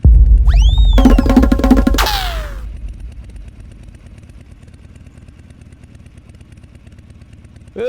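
A motorcycle engine roars loudly up close for a couple of seconds with sharp revving whines, then drops to a low, quiet idle.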